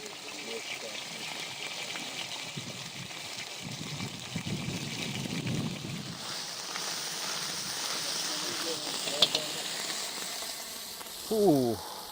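Adabi fried-rice spice paste sizzles and fries steadily in oil in a pan, with occasional stirring; a voice speaks over the cooking.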